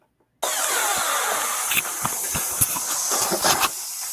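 Boiling water throws off a loud, continuous broadband hiss of steam that starts abruptly and holds steady, with scattered crackles and spitting pops throughout, no speech.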